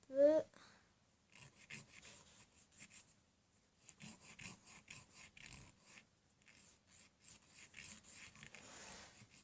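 A nail file rasps back and forth as fingernails are filed into a rounded shape, coming in soft, close scratchy strokes after a brief tonal sound at the start.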